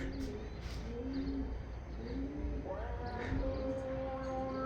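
Pigeons cooing outdoors, several soft low repeated coos in short phrases over a steady background hum, with faint chirps mixed in.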